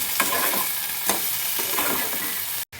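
Spices with cumin powder sautéing in a pan, a continuous close sizzle punctuated by a few spatula scrapes, briefly cutting out near the end, with no talking.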